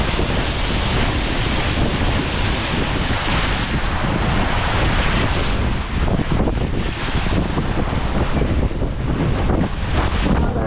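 Loud, constant rush of wind and breaking ocean waves aboard a sailboat crossing the Caribbean Sea, with surging swells and heavy wind buffeting the microphone, no voices.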